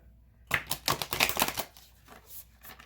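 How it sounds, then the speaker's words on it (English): A deck of tarot-style cards is shuffled close up, a quick burst of riffling flutters and soft slaps lasting about a second, then quieter shifting of cards. "we're going to shuffle, and we're going to pull one card"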